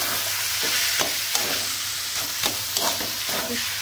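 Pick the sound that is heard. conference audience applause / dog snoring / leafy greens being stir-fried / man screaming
leafy greens being stir-fried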